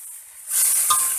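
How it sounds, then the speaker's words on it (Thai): Enoki mushrooms and pork slices being stir-fried, with a brief burst of sizzling that rises sharply, plus a light clink of a utensil against the pan. "เขาผัดไปหมูก็จะสุกจังน้อยนะเขาก็เอาเห็ดใส่เลยครับ"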